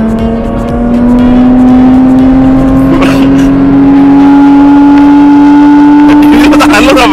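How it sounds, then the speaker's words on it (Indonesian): A Mitsubishi Galant V6 engine revs loud and close, its tone rising steadily and holding high, with a brief sharper burst near the end. "Suara V6 itu merdu banget."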